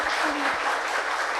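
Audience clapping at a gospel and inspirational singing competition show, a brief continuous burst of many hands applauding, steady and moderately loud, with a faint voice briefly underneath.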